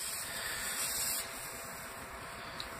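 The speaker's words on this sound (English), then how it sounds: "Some more WD-40 in there." WD-40 sprays into a cylinder head during ridge cutting and honing, a steady close aerosol hiss lasting the whole moment. No one speaks.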